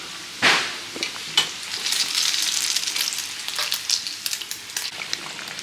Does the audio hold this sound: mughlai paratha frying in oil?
yes